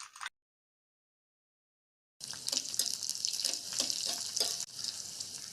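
Cumin, dried red chillies, curry leaves and crushed unpeeled garlic spluttering in hot oil for a South Indian tempering: after a brief sound and a stretch of silence, a bright, crackling sizzle sets in and continues close by.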